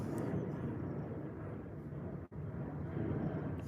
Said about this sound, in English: I'm sorry, there's a plane coming.